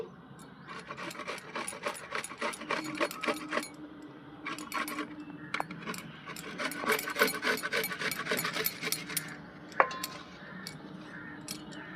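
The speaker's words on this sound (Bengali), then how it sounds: "এই দেখেন সামান্য একটু আদা ঘষে দিচ্ছি" A small piece of fresh ginger is rubbed back and forth on a grater for amla pickle, producing a steady run of close, scratchy rasping strokes with brief pauses.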